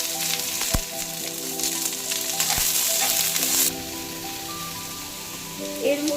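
Onions and a bay leaf hit hot oil and crackle into a loud, dense sizzle, with a couple of sharp knocks early on and a few faint background noises, the frying easing slightly after a few seconds.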